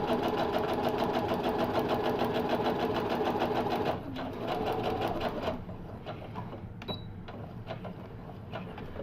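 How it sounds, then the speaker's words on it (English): A sewing machine stitches a paper-piecing seam, a steady fast mechanical whir and needle chatter for several seconds that stops, leaving faint clicks and quiet handling. "Sew straight on that line between 1 and 2."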